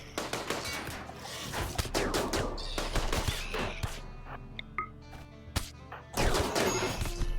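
Rapid bursts of gunfire from friendly fire in the RimWorld colony game, dense repeated shots mixed with crashing impacts, loud and close throughout with no talking.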